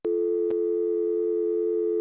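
A steady telephone busy tone in the Gabriel Knight video game, loud and continuous with two brief clicks near the start, alone with no voices.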